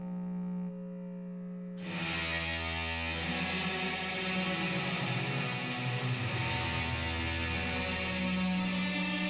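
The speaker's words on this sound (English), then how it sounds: "kick on the reverb, and let's go to full wet" Fuzzed electric guitar drenched in a full wet hall reverb, a quiet note swelling into a loud, washy wall of sustained distortion that lingers and blooms throughout with no voices.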